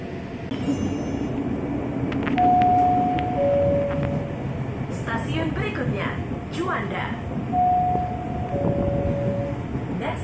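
Inside a KRL Commuter Line train running through Jakarta past Gambir station, a steady rumble of wheels and motors fills the car, with two-tone chimes sounding twice and a voice talking over it.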